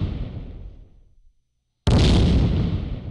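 A mortar firing a round on a range toward a target 100 meters away: a loud, sudden blast that cuts in after a brief silence and rings on, following the fading tail of an earlier shot.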